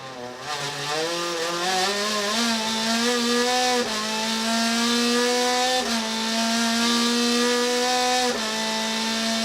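Loud Citroën WTCC race car engines roar continuously on a circuit, pitch climbing steadily and then dropping sharply at each gear change, a close and sustained mechanical whine.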